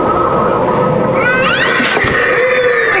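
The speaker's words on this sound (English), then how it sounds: "Kitty cat noise." A loud, drawn-out synthetic meow from a Spirit Halloween animatronic cat, with a rising and falling wail, heard up close over a steady background hum.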